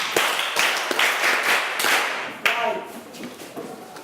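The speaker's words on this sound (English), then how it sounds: "clap for her." A few people clap for a girl: scattered sharp claps land unevenly over about four seconds, close and fairly loud, with a brief voice heard among them.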